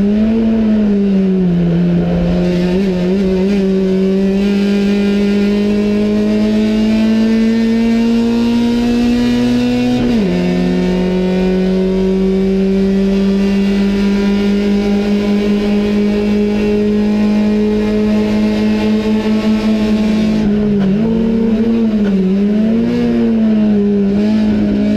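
Onboard a Fiat one-make series race car driven by Valerio Tenaglia, the engine drones loud and steady at high revs, dipping briefly on lifts and shifts around the midpoint and near the end before pulling hard again.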